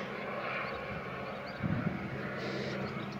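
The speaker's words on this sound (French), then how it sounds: "ça c'est l'hélicoptère qui passe" A distant helicopter passes overhead, its low engine and rotor drone steady and faint, with a brief nearer rumble midway.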